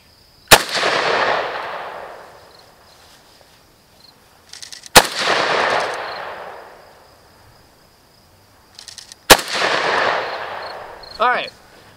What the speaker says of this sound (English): So it shoots like an AK normally shoots.